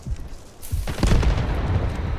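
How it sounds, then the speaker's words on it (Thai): A grenade blast in the shooter game Delta Force, a deep booming explosion about a second in, followed by a low rumbling tail under quiet background noise. "โยนระเบิดไปแล้วโยนระเบิดไปแล้ว"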